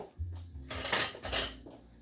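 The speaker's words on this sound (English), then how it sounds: "And then you add your 2 cups of rice. All right, and then you're gonna stir it." Rice being stirred in a hot pot with a little oil for Spanish rice: two or three short scraping, clinking strokes of a utensil against the pot, close and fairly loud, with a low hum between them.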